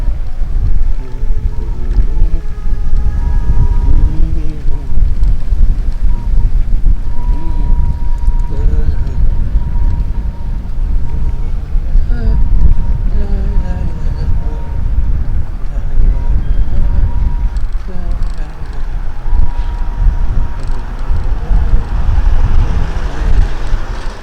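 A strong headwind roars and buffets the microphone of a bicycle rider pedalling against it, a dense, steady low rumble that lasts throughout, with a voice and faint tonal singing or melody running through it.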